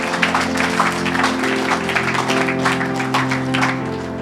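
A church congregation claps in a dense, steady patter of applause, close and lively, over a sustained musical backing at a worship service.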